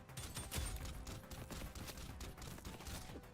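A gun in a shooter video game built in Godot fires continuously in rapid, chunky bursts of quiet, crackling shots in a steady rhythm, with no voices.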